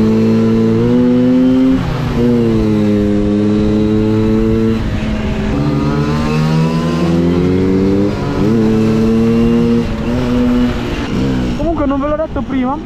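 Small-displacement motorcycle engines, a black Beta 70 among them, rev and rise and fall in pitch nearby, a loud buzzing drone with repeated throttle blips and a sharper climb near the end, with people talking over it.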